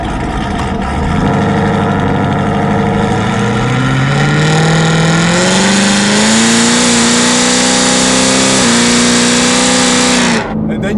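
A 1000 whp 2017 Camaro ZL1 revs loudly and accelerates hard nearby, its engine note climbing steadily through a long pull before cutting off abruptly near the end.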